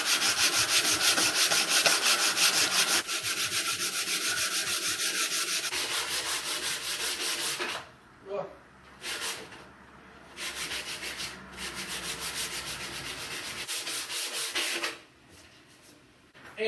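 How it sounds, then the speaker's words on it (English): Sandpaper is rubbed hard against a small wooden piece to round it over, giving long continuous scratchy sanding strokes up close, then shorter bursts separated by pauses. "you can just do this with sandpaper and that will make it nice and round."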